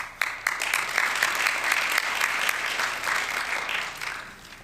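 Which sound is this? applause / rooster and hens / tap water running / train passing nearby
applause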